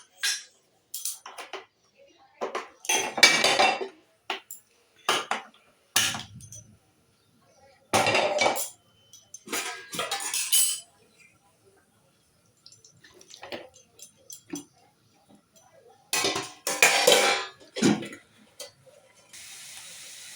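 Dishes clatter, including a metal plate used for kneading dough, in scattered clinks, scrapes and watery rinsing bursts with quiet gaps between them.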